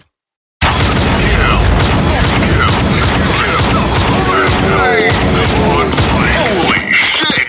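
A grenade goes off in the Truy Kich online shooter, a loud sustained boom with gunfire and battle noise filling the whole stretch after a brief silence, with voices shouting in the mix.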